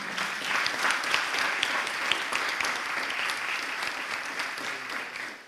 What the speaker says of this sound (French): Donc vous pouvez l'applaudir aussi.